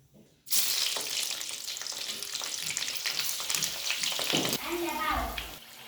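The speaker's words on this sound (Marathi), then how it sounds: "आधी आपण या मिरच्या तळून घेऊया" Slit green chillies fry in hot oil for vada pav. A sharp burst of loud sizzling and bubbling starts suddenly and stays close and continuous, easing slightly near the end.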